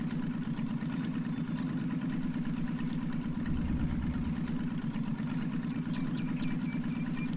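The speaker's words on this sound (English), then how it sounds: "you can hear the engine going on here, but it doesn't rev or anything" A vehicle engine in the logging game Lumberjack's Dynasty idles steadily at an even, unchanging pitch, a continuous low hum that never revs, heard alone throughout.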